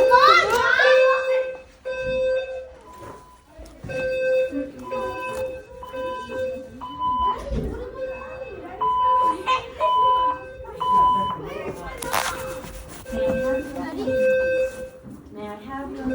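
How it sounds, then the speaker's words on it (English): A fire alarm sounds in a Great Wolf Lodge hotel, its loud, steady pattern of high electronic beeps repeating throughout while children and adults talk over it nearby. "the fire alarm is going off."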